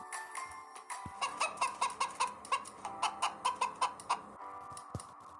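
A hen clucks in a quick, steady series of short, sharp calls, fairly close, with a few softer notes before and after.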